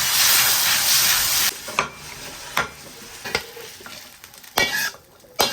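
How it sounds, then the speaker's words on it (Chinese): Lamb with sauce stir-fried in a wok gives a loud, steady sizzle at first, then quieter frying broken by several sharp scraping stirs of the spatula. "倒入剩下的碗汁，稍微翻两下就可以出锅了"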